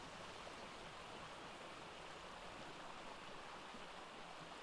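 Steady rushing waterfall ambience from the video game Aquatica, a constant broadband wash of falling water with no breaks, faint and even throughout.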